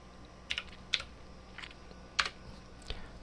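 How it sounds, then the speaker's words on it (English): A few sparse keystrokes on an Amiga computer keyboard, isolated clicks spaced irregularly over a quiet room background, close and fairly soft. "so now we exit disk part by typing in the exit"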